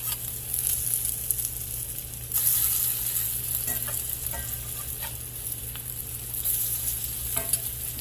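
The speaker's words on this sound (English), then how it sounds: "I don't want to flip them where the grease is going to fly up all over me." Onion fritters frying in hot grease give a steady, close sizzle with soft crackle throughout, swelling louder partway through and sprinkled with light pops and spatters; no one speaks.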